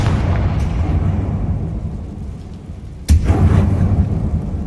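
A blasting-spell explosion in Hogwarts Legacy lands with a sudden sharp boom partway through, over a loud, rumbling game backdrop that swells again after the blast.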